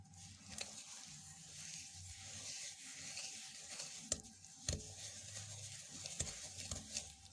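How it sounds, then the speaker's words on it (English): Butter, margarine and sugar being creamed in one direction in a bowl, a soft scraping stir with a few sharp clicks of the utensil against the rim, quiet and close. "So you cream until the butter and the margarine and the sugar mix in well."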